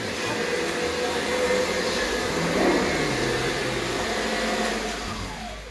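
A Kirby vacuum cleaner runs continuously nearby, its motor drone steady with slight shifts in pitch as it moves.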